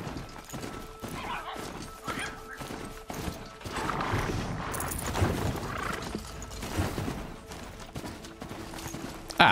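In Horizon Zero Dawn, a ridden horse's hooves beat a steady clip-clop rhythm while whinnies and other game sounds rise midway, closing with a sharp burst.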